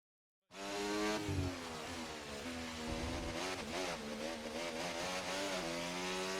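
A Formula 1 race car engine in the F1 24 game drones loudly and continuously, its high-revving pitch rising and dipping through gear changes, with no voices over it.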